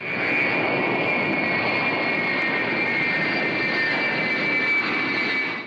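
A Tu-104 passenger jet landing at Boryspil military airfield gives a loud, steady jet roar with a high whine, constant in level throughout.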